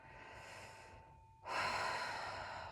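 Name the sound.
deep breath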